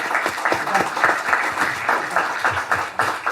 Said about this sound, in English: Big applause for Team NatStrat and everybody there.